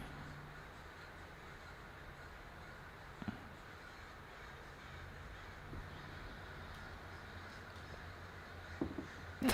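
A flock of crows circling overhead, cawing now and then outdoors over a low, steady background hiss; the calls are faint and distant, with a slightly louder burst near the end.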